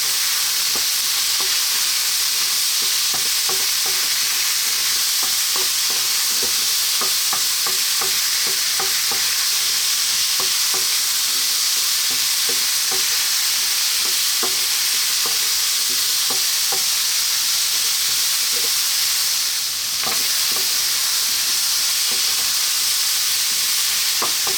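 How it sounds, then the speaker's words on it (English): Chickpeas and potatoes with spices sizzle steadily in a frying pan for a chickpea potato curry, a constant loud hiss broken by frequent light scrapes and taps of stirring close by. "We're going to give this a stir and we're going to go for about another 3 or 4 minutes."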